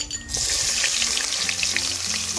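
Chopped onion with black cumin frying in hot oil, a dense bright sizzle that erupts loudly as the onion hits the pan and holds steady, close up with no voices.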